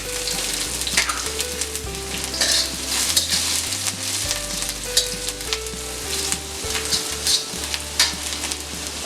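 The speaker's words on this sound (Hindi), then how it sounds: "हरी मिर्च डालेंगे," Green chillies stir-fried over high heat for chicken Manchurian, a steady loud sizzle with scraping stirs throughout, over background music.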